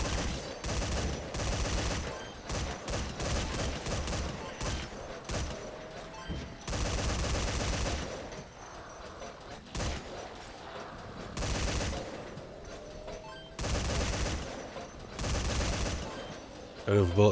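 Gunfire from the video game Metal Gear Survive: repeated bursts of loud, sharp shots in uneven clusters, separated by short lulls of quieter game sound across the span.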